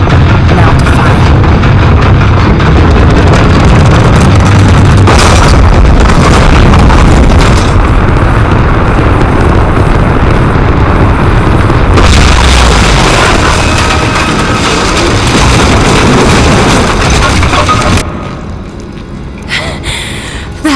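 A loud, sustained explosion after firing in the action-adventure game Rise of the Tomb Raider, with heavy booming rumble and crashing debris filling the scene before it fades into quieter ambience.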